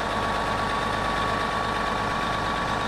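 A school bus engine idles steadily and close by, a constant low rumble with a throbbing pulse that holds level for the full three seconds, with no talk over it.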